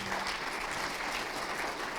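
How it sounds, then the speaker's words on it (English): An audience claps for debaters at a panel discussion on carbon markets in Kenya, with steady applause that continues evenly. "A round of applause for our debaters"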